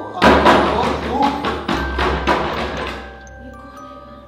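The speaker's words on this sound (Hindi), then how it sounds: "इतनी रात को दरवाजा कौन खटखटा रहा है इतनी तेज?" Loud, heavy knocking pounds on a door at night, a rapid run of about eight close thuds under a brief spoken question, then fading into a quiet hum.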